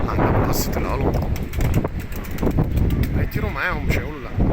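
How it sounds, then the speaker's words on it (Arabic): Strong gusty wind buffets a microphone outdoors at a pigeon loft, loud rumbling bursts rising and falling throughout, with someone talking under the noise. "مش عارف الجو ضرب هوا فجأة كده معايا اهو"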